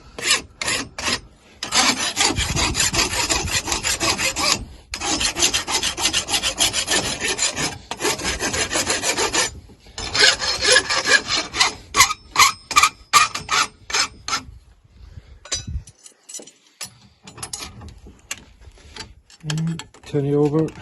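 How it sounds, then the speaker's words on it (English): A farrier works a rasp across the heels of a horse's hoof, producing loud, rhythmic scraping strokes in bursts with short pauses, followed by lighter, scattered filing and tapping toward the end. "Now, if I need to now, I can rasp the heels flat"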